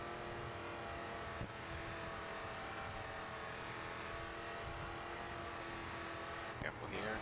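Race car engine in the racing game GRID 2, a loud steady engine drone holding a high pitch with slight throttle changes, while someone talks over it.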